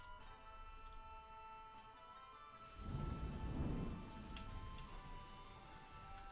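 Rain falls steadily in the Dwarf Fortress Masterwork mod, with a deep, swelling rumble of thunder rolling in midway before it fades back under the constant patter.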